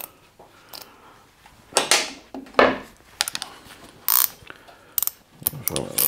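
Hand tools loosen the brake caliper on a Volvo 945, giving scattered metallic clicks, ratcheting and clanks of varying loudness, close up and irregular, with brief pauses between bursts.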